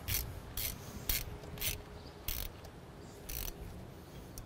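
Ratchet tightening spark plugs on a Mk4 Golf engine, a series of short, crisp clicking bursts in an uneven rhythm, up close with no speech.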